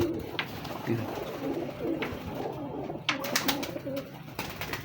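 Breeding pigeons, a Teddy breeder pair with a Sebe-type bird, cooing softly at close range with scattered brief rustles and clicks over a low background hum.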